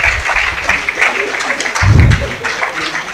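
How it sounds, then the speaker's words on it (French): Audience applause at a graduation ceremony, a broad burst of clapping that swells near the middle, with a host's voice heard faintly over it. "On vous accompagne sous les applaudissements, mesdames et messieurs."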